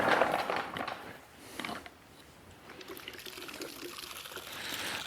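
Water pours and splashes into a soap bucket being filled for a car wash, a steady close gush that is loudest at the start and then settles into a softer continuous flow.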